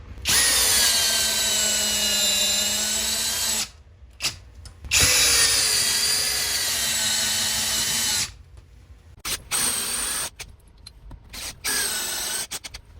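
A PowerCore 20 cordless drill whirs loudly in long steady bursts driving nuts while mounting a Samsung TV, stopping and starting several times with short pauses, close by and with no talking.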